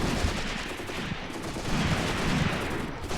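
Rapid machine gun fire rattles in bursts within a WWII tactical battle on the Mius front in Graviteam Tactics, mixed with dense ambient combat noise and no speech.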